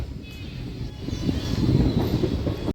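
A MEMU passenger train pulls out of Renigunta station, a low rumbling roar of the rolling carriages steadily building from inside, with faint higher whine above.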